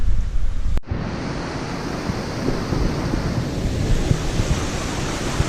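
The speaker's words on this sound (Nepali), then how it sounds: "यता यो खोला देख्न सक्नुहुन्छ।" The Handi Khola river in Sindhupalchok, Nepal rushes past in a loud, continuous broadband roar of flowing water, steady throughout after a brief cut near the start.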